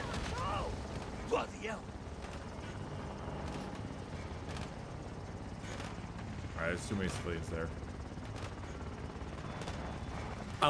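Helicopter in Call of Duty Modern Warfare II churns steadily throughout at moderate level, mixed with scattered gunfire bursts and mechanical clanks.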